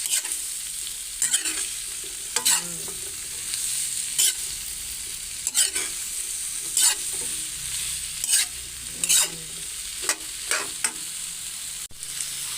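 Lechon paksiw with chayote is stirred in a pan, producing a steady low simmering sizzle broken by regular scraping strokes of the spoon every second or so, with no talking.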